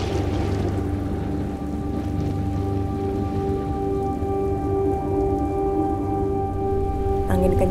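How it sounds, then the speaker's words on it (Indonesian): Heavy rain and storm with strong wind on the rocky coast of Maitara, a steady dense roar of rainfall on surfaces that stays loud and unbroken throughout, with no voices. "Angin kencang dan hujan badai melanda."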